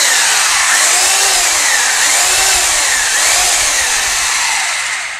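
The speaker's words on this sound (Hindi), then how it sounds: "और सिंपल ड्रिल पे करूँगा, जैसे मुझे घर पे करना है" A White Horse electric drill runs in simple drill mode, a loud continuous high whine with slight wavering pitch sustained for about five seconds before easing off at the end, no talking.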